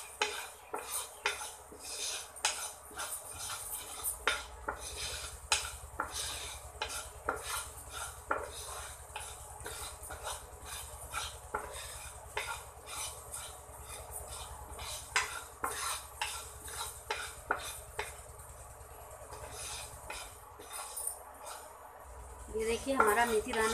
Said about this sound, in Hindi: ये देखिए, हमारी मेथी दाना भूनने लगा है,